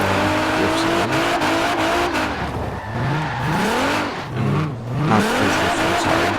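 Custom drift car in Forza Horizon 4 revving hard through a warm-up run before a drift zone, engine pitch sweeping up and down repeatedly with tire squeal and skidding, loud and continuous throughout.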